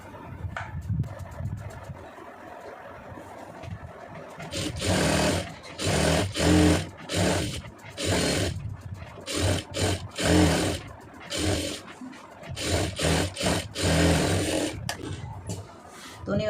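A sewing machine stitches the star neck of a lined blouse in stop-start bursts of rapid rattling, close and fairly loud, with short pauses between runs.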